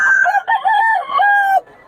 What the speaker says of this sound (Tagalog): Ito yung murang mga manok ni Boss Dada